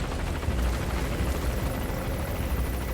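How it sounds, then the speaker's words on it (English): A helicopter flies in Metal Gear Solid V, heard as a loud, continuous rotor wash and engine roar for the whole stretch, with no voices. "the helicopter's been flying around"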